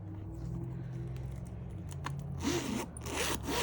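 A zipper on a new summer purse is pulled open and closed, giving a close, crisp rasping run followed by a second quicker zip, over a quiet room hum.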